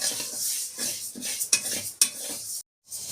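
Moong dal being dry-roasted in a wok, with repeated close scraping and stirring strokes of a utensil against the metal and light rattling grains, ending in a brief silence.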